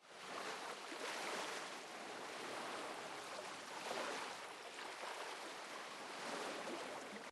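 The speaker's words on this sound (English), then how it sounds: "my personal favorites are the waves and splash sounds that play when you're near a body of water." In Grand Theft Auto: San Andreas, a steady wash of water waves and surf hisses from a nearby body of water, with gentle swells rising and falling and no other sounds.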